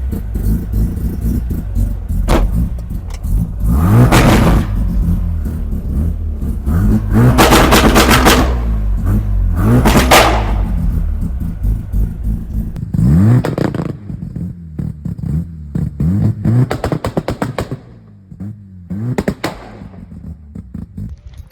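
Rotary-engined Mazda Miata project car on a test drive while testing launch control, its engine revving hard in repeated surges with sharp crackling pops and bangs, loud and close throughout, settling into a choppier, sputtering idle toward the end.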